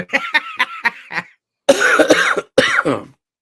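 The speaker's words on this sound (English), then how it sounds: "I got a bit of a sore throat and I can't stop coughing" A person with a sore throat gives a run of quick, dry coughs, then a pause and two heavier, rougher coughing fits, close and loud.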